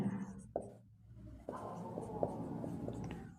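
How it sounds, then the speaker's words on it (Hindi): Chalk or marker taps and scratches on a board during a geometry lesson on triangles. The strokes are short and soft, with pauses between them, under faint room noise. "तो यहाँ पे लिख दे रहे हैं"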